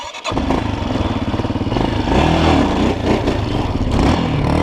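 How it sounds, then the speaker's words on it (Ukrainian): A Forte CBA 250 enduro motorcycle engine catches after a brief quiet moment, then runs and revs loudly up close with a throbbing, pulsing rise in throttle, no voices. "Швидко, але не кидаємо щеплення і даємо газу"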